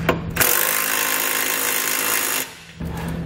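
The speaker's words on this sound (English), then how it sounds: "you want to grab a 11/16 socket and we're going to snug them up" Power tool driving an 11/16 socket to snug hex nuts on carriage bolts for a Draw-Tite Sportframe trailer hitch on a 2020 Chevrolet, a close loud whirring burst of about two seconds, then a short pause before it resumes.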